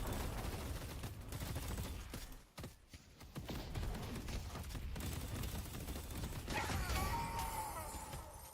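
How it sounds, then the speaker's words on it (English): Gunfire in the video game Deadlock, a dense, continuous fusillade of rapid shots and mechanical clatter, loud and sustained over the game's busy combat soundscape. "I'll start shooting him."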